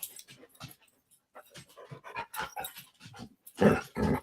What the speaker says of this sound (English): Apparently, my dog doesn't know the meaning of silence.